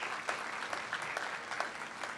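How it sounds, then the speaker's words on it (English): Audience applause at an evening Board of Education meeting: steady, moderately loud clapping from a room of people, with scattered sharper claps standing out, continuing throughout without any voices. "let's give them all a round of applause for being here tonight"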